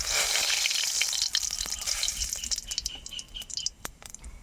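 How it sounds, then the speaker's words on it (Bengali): Whole cumin seeds and garam masala sizzle in hot oil for a fish and tomato curry, a steady bright frying hiss that thins toward the end, with a few small pops and crackles and no voices. "তেল গরম হয়ে গেলে দিয়ে দেব কিছু গোটা জিরে আর দিয়ে দেব একটু গরম মশলা"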